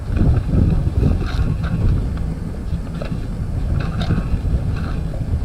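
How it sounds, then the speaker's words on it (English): Wind blows at an abandoned school with a strong, steady, rumbling gusty roar. Faint rattles and knocks are heard now and then, and no one speaks. "I like filming things that the wind is blowing."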